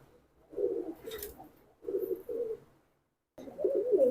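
Military breed pigeons cooing nearby in Keraniganj, Bangladesh, soft, throaty bursts, three separate phrases with short silent gaps between them.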